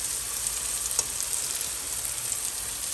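Turmeric sizzling in hot oil in a pan while cooking tofu bhurji: a steady, close, broadband frying hiss that holds evenly throughout with faint crackles and no voices.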